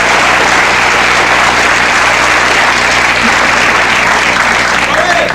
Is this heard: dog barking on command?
no